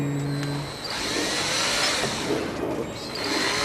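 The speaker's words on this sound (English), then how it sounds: "I'm going to drill through this connector." A power drill runs continuously, bored through a blank plastic car wiring connector during a headlight ring install on a 1997 BMW E39 540i, a close, steady whine with slight pitch shifts and no talking.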